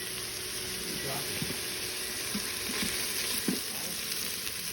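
Garlic with thyme and poultry seasoning sizzles steadily in a pan for a turkey pot pie filling, a constant bright hiss with a few soft clicks of stirring, close and even.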